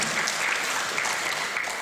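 A church congregation applauds and cheers during a Sunday worship service, a dense, continuous wash of clapping and voices filling the room at steady loudness.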